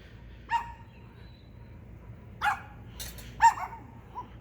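Neighborhood dogs bark behind a fence: three separate sharp barks spaced a second or two apart, followed by a faint final yip, heard from a moderate distance over quiet background hum.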